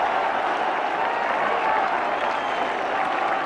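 A large cricket crowd at Eden Gardens, Kolkata, during a 2002 India versus England one-day match roars and applauds in a continuous loud wash of cheering and clapping.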